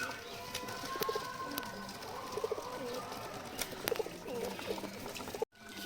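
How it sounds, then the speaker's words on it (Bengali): Pigeons coo softly while feeding, several low calls scattered over a quiet background, with faint clicks and rustling nearby. "ওরা দেখো পায়রাগুলো সব খাচ্ছে"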